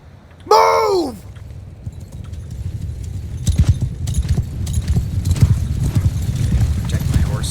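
A horse in a Bannerlord battle lets out a loud, close whinny, then hooves pound in a continuous gallop, with battle noise swelling behind the running hoofbeats.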